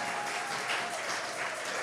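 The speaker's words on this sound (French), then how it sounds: "Acclamez bien vous aussi." A crowd claps steadily in a church or meeting hall after a preacher urges it on, a dense, continuous wash of applause with no voices standing out.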